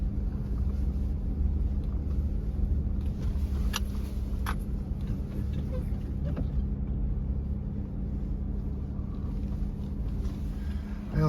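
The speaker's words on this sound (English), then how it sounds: "the truck has been running for 18 hours, 18 minutes, and 10 seconds" A truck engine labors uphill with a steady, heavy low rumble that never lets up, heard from inside the cab, with faint clicks and no talking.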